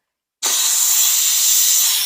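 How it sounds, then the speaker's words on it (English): Steam bursts from a pressure cooker's release, a sudden loud, steady hiss that keeps blasting without letup, bright and airy, close by. "Let the steam out."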